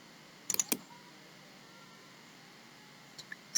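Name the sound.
computer keyboard and mouse clicking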